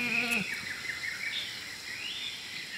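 Goats bleat in a wilderness survival film about Robinson Crusoe, a couple of wavering, nasal cries rising and falling over steady outdoor background noise.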